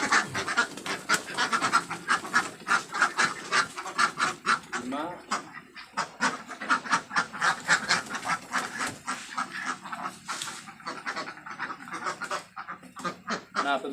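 Ducks on an egg-laying duck farm quack in a dense, continuous chorus, many birds close by calling over one another in rapid overlapping bursts for the whole stretch.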